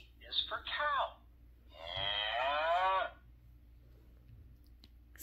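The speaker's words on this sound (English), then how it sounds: "C is for cow" A cow moos twice, close and loud: a short call followed after a pause by a longer, drawn-out low bellow, with a faint click near the end and no talk.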